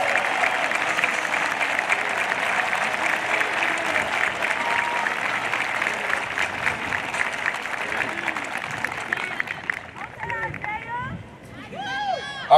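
A high school graduation crowd applauds graduates who are joining the military, a long wash of clapping with cheering and crowd murmur, tapering off near the end as a few voices and whoops break through.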